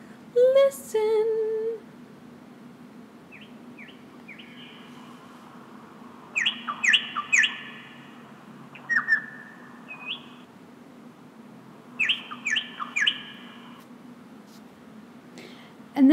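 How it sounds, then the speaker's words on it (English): A nightingale sings in a bedtime story: short bursts of bright chirps and clear whistled phrases come in several groups, moderately loud over a steady low hum, with no talking. "the nightingale sang a beautiful but sad song"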